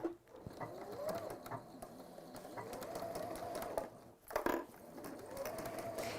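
A sewing machine stitches fabric in steady whirring runs, with a brief stop near the middle before the motor picks up again. It sounds close and fairly quiet, with no voices.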